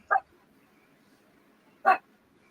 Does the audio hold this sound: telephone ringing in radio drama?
no